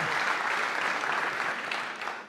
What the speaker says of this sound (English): One round of applause, please, from the NutriBullet Treviso player, Giordano.